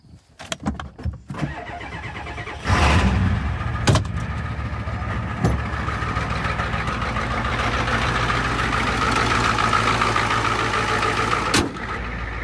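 A 1996 Ford F350 crew cab with the 7.3 diesel cranks in several uneven bursts, catches with a loud roar and settles into a steady, rumbling idle close by, with a few sharp clanks along the way.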